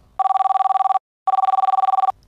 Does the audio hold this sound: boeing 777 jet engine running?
no